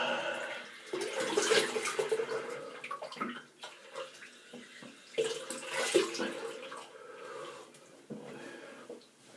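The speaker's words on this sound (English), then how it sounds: "I'll just rinse my face with some clean water." Water splashing in a sink as a man rinses his face with clean water, close and intermittent, in irregular bursts of splashing and trickling with short quieter gaps.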